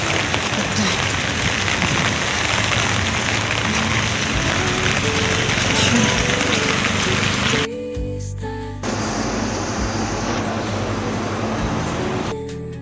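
Heavy rain falls hard and continuously, a loud dense roar of drops beating on surfaces. The downpour eases briefly midway before returning, with a faint low rumble underneath.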